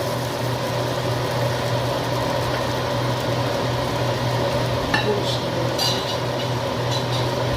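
Pieces of rohu fish dropped into a hot pan of oil for a fish curry, giving a steady loud sizzle and frying hiss with a few clinks of utensils in a home kitchen.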